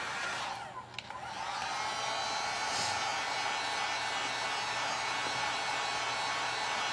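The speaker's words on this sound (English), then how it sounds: "I'm gonna dry it and go over that one more time" Hair dryer blowing on a painting of an elephant with flowers, a close, steady whooshing hum that dips briefly near the start and then runs evenly to the end, with no talking.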